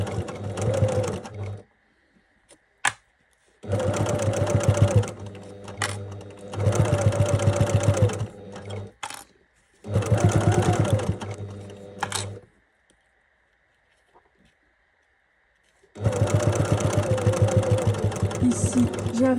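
A sewing machine stitches fabric for an embroidered health-book cover in four loud, steady bursts of rapid needle rhythm, with short silent pauses between runs as the fabric is turned.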